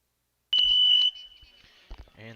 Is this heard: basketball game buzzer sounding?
yes